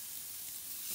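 Steady, quiet sizzling hiss of sous vide chicken searing on a hot grill, continuous without breaks.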